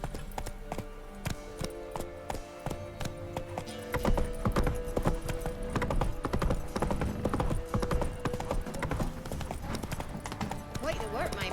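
Horse hooves clip-clop steadily in the Witcher 3 video game, a brisk, even gallop rhythm heard up close, with game speech around the hoofbeats.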